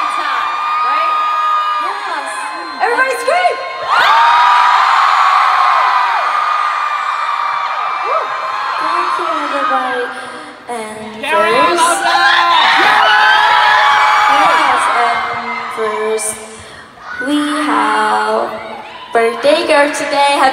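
A concert crowd at a fan event in Dallas screams and cheers loudly and continuously, with shrill whoops and yells swelling and dipping over about twenty seconds, close and dense throughout.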